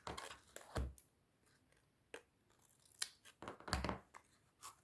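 Scissors trimming overhanging paper or card for a handmade advent calendar, several sharp close snips in irregular bursts with pauses of quiet between cuts.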